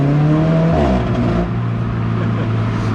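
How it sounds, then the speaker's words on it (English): An Alfa Romeo 4C engine revs loudly up close, climbing in pitch, then dropping to a lower steady drone as the dual clutch gearbox shifts. "the sound of that dual clutch gearbox on the 4C is insane"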